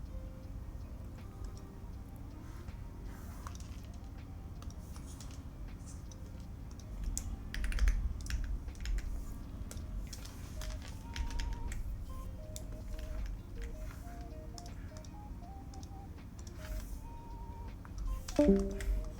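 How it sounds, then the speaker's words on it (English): Soft computer keyboard typing ticks along steadily at low volume for the whole stretch, with faint background sounds and a brief louder clatter near the end. "I can hear the keyboard somewhat."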